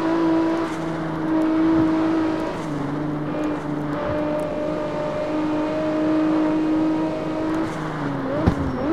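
A Nissan GT-R R35 in the CarX Street racing game drones loudly with a steady engine note that shifts pitch as it revs and accelerates, with a sharp click near the end.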